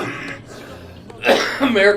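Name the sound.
cough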